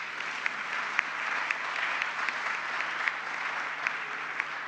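Steady audience applause at a Chilean government presentation of a housing emergency plan, a dense continuous patter of many hands at moderate distance with a few sharper claps standing out, no voices over it.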